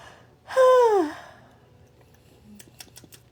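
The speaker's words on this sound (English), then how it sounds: "I knew I was going to yawn again." A person yawns once, a loud drawn-out exhale with a falling voiced tone lasting about half a second, followed by quiet breathing and a few faint clicks.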